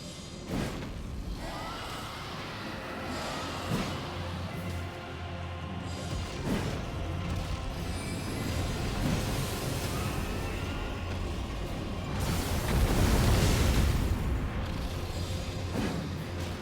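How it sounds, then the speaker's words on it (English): Spectral Lance sorcery striking a dragon in Elden Ring, heard as repeated whooshing launches and heavy booming impacts over a dense, rumbling battle soundscape that swells louder toward the end. "I just wanted to test Spectral Lance on the dragon, which turns out to be quite effective."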